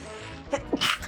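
A single sharp sneeze bursts out after a brief quiet stretch, close and fairly loud, with a short breathy intake just before it.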